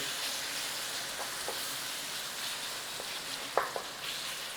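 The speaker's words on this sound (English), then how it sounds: "Now we do want to cook the pink off this meat. Just cook it a little bit of a browning on there." Mince meat browning in a pan gives a soft, continuous sizzle and hiss, with a few faint stirring clicks near the end, quiet and without voices.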